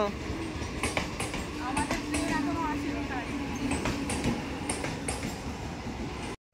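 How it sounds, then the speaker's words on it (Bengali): A train heading toward Lalgola rolls past at a station, with a steady rumble and rhythmic wheel clatter close by. Voices talk underneath throughout. "এটা হচ্ছে লালগোলার দিকে যাচ্ছে এই ট্রেনটা"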